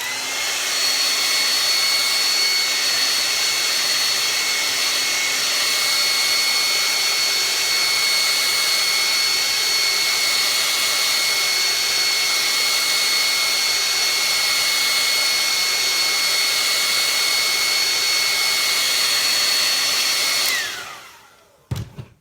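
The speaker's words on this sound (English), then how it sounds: "I'm going to give this a blast with my hair dryer" A hair dryer blasts air to dry brown acrylic paint, a loud steady whooshing hum with a faint whine that holds evenly for about twenty seconds, then clicks off abruptly.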